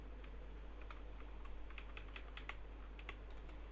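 Quick, light keystrokes on a computer keyboard while typing HTML headings, coming in short irregular bursts that stay faint and close over a quiet steady background hum.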